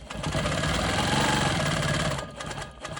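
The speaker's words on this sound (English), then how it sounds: "I am gonna quilt the diagonals edge to edge" A sewing machine quilting diagonal lines edge to edge across quilt sashing, running loud and close in a fast steady mechanical whir, then slowing and stopping with a few stuttering stitches.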